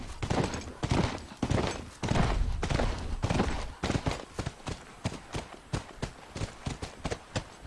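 Video game horse hooves from The Last of Us clatter in a steady clip-clop, close and clear, fast at first then settling into an even, evenly spaced gait.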